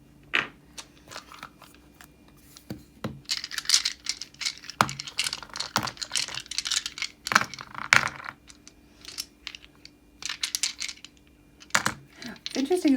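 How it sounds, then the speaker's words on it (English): Fantasy dice are rolled for a tarot reading, giving sharp close clatters and rattles as they tumble and knock together on a hard surface, scattered in bursts over a quiet background with no talk. "Okay, so we're rolling the first set of dice. Those are the fantasy dice."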